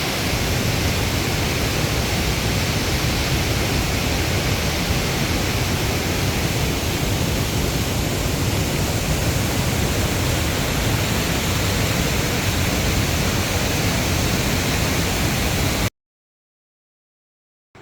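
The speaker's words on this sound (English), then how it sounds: "So this is Bubbling Springs waterfall" Bubbling Springs waterfall in North Carolina in winter roars as a steady, dense broadband rush that holds constant and close throughout, then cuts to silence near the end.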